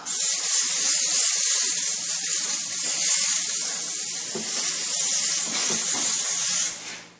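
Cooking spray hisses steadily onto a bake pan for several seconds, a bright continuous spray with faint clatter beneath, cutting off near the end.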